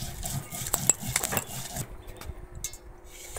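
Green chillies, cumin, garlic and ginger ground together by hand on a flat grinding stone, giving a close, uneven run of scraping and knocking strokes with small clinks, fading to quieter rubbing toward the end.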